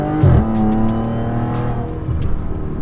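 An Audi S4 with a valved exhaust revs hard on a downshift, a loud, close engine blip that swells and then settles into a rumbling drone, with no talking.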